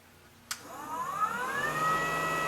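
A JoolTool sander resurfacing a steel hammer head starts with a sharp click, then its motor whine climbs steadily in pitch and settles into a loud, continuous high-speed hum.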